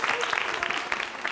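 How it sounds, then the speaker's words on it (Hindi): Clapping from an audience for a contestant at a girls' college anniversary quiz show, a short burst of dense applause at steady loudness. "अंबिका के लिए तालियां जोरों से बजाइए,"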